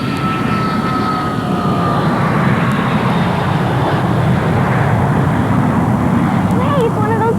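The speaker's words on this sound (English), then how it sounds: "Sounds like an airplane" A big passenger plane flying overhead, a loud, steady broadband roar that swells and fills the whole stretch, with a faint voice briefly audible near the end.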